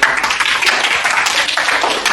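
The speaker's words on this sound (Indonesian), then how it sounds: "Luar biasa, tepuk tangan lagi." Short, loud burst of clapping from a class of students, crisp individual claps running together into brisk applause with no talking.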